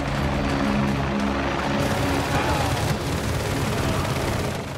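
A helicopter in Call of Duty Modern Warfare 2 Remastered gameplay gives a loud, steady rotor drone that fills the whole span, with bursts of gunfire layered over it.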